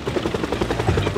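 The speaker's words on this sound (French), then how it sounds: "Un seul hélicoptère pour me combattre." Helicopter in a SpongeBob video game, a rapid rhythmic rotor chop with a low engine drone underneath, steady and fairly loud, heard close with no voices.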